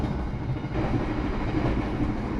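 Taksaka passenger train from Jakarta to Jogja running on rails, heard from inside the carriage as a steady loud rumbling roar with faint clickety-clack and no voices.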